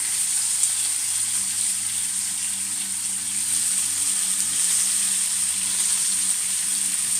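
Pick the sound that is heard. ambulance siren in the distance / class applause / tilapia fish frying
tilapia fish frying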